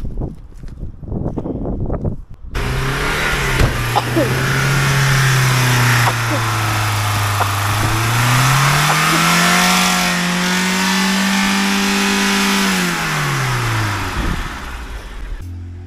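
A broken-down car's engine revs in a long, steady drone that rises and falls in pitch, loud and close, after a few moments of voices and rustling.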